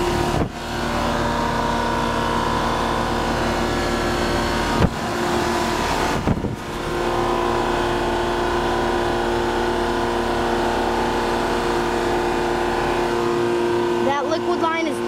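Two 2-ton Comformaker 10 HVAC units from 2002 run side by side under a high heat load, giving a loud, steady mechanical hum with strong tonal drone and a couple of brief knocks or clicks.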